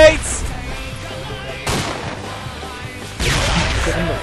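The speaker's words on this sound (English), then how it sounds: "Grenades!" Grenade explosions in the military shooter game Project Reality: two sharp broadband blasts, one mid-clip and a louder one near the end, each followed by a rumbling decay over a busy background of gunfire and faint voices.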